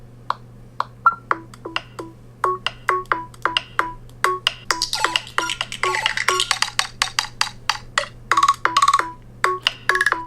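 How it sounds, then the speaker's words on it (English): A Google Pixel phone ringtone plays a quirky run of short, bright chime notes in quick bursts, brief flurries mixed in, clear and close against a faint low hum. "It's a weird ringtone."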